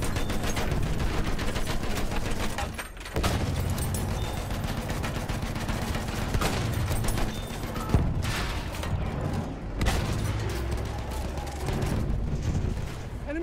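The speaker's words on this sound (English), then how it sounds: "Enemy machine gun!" Battlefield 1 battle in Conquest mode: dense, continuous machine-gun and rifle fire with heavy bursts and booms, loud and close, with shouted soldier voices in the mix.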